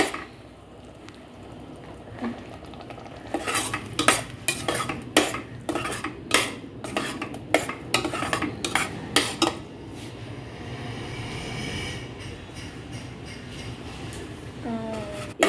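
Ground radish paste stirred in a metal pan, with a burst of repeated utensil scrapes and clinks in the middle, then a softer steady cooking hiss toward the end.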